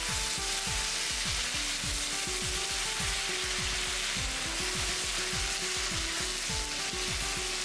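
Chicken with garlic, ginger and onion paste sizzles loudly over high heat as it is stirred, with rapid repeated scraping strokes in the pan over a constant close frying hiss.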